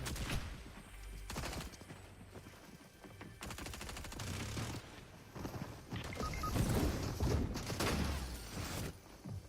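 Gunfire in the video game Fortnite: scattered bursts of rapid, moderately loud shots, with rumbling game ambience and movement noises between them.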